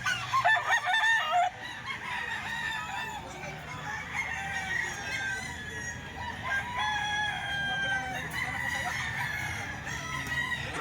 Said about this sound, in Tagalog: Napakadaming manok mga boss na naman dito sa Grotto.